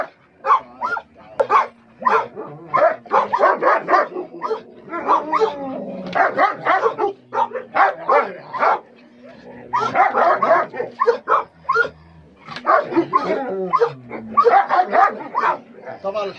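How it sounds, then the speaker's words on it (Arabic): A newly arrived, aggressive dog barks repeatedly in sharp, close bursts mixed with yips and whimpers, while people talk over it throughout. "ده كلب لسه داخل مكاننا دلوقتي زي ما انتم شايفين"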